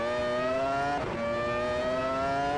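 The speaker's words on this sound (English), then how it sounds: "Gotta love that engine sound too," Formula One car engine in the racing game Automobilista 2, a sustained high-pitched whine holding steady, briefly dipping in pitch around a gear change before climbing again, loud and alone.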